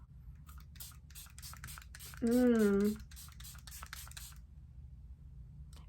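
A rapid series of short spray bursts, evenly spaced pumps from a cosmetic setting-spray bottle, with a brief spoken word partway through.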